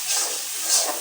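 Egg frying in a hot pan with spices, a steady close hiss of sizzling oil with no talk.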